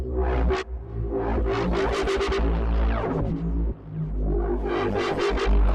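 Strange, unusual patch from a Korg Opsix FM synthesizer using a user-built algorithm, a dense loud tone with shifting bursts of bright noisy overtones and throbbing low drones, swelling and dipping briefly twice over several seconds, no voice.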